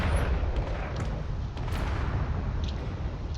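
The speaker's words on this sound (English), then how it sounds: "It's another explosion on board." An explosion on board a ship in a drone war video game, a dense low rumbling blast that rolls on without pause, heavy in the bass with a few crackles on top; no voices.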